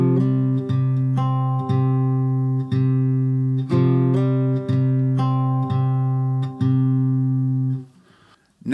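A slow acoustic guitar line from a song, evenly spaced plucked notes ringing out one after another, close and clear, fading into quiet near the end.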